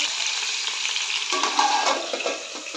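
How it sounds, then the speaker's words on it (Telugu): Bitter gourd fries in a pan with a continuous hissing sizzle, which grows busier partway through as the pieces are turned. "కాకరకాయని కాయగా వేపడం కదండి"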